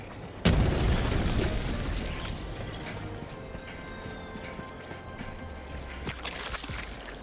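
Explosion in the video game Helldivers 2, a sudden loud boom followed by a long rumbling, crackling decay, then a second fainter blast near the end.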